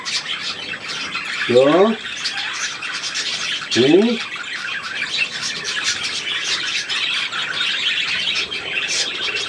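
A seagull squawks twice in quick, short harsh calls a couple of seconds apart, standing out over a constant background of thin chirping, and a voice murmurs briefly.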